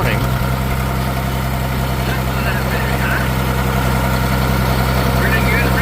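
A rare prototype International Harvester tractor engine idles loudly nearby at an auction, a steady low rumble with a constant throb that fills the whole stretch.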